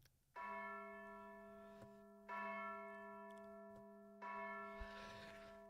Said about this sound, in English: all of a sudden, the church bells start ringing.